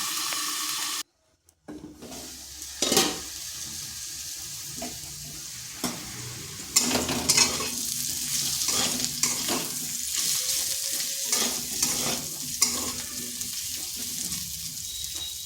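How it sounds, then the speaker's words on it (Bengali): Steady sizzling crackle of diced potatoes frying over medium heat in a pan, with occasional stirring scrapes and clinks over the continuous hiss. "মিডিয়াম আঁচে রেখে ঢাকা দিয়ে দিয়ে আলুটাকে ভেজে নিচ্ছি"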